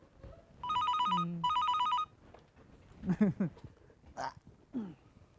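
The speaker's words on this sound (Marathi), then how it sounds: "फोनची बेल वाजते मी ऐकतो मी घेतो" A telephone rings twice in quick electronic bursts, loud and close, followed by a few short voiced sounds.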